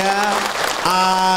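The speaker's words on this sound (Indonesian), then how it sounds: "Tepuk tangan dong buat Ahilman Bu." A studio audience at an Islamic sermon claps briefly, a short burst of applause mixed with a sustained musical tone and a speaking voice.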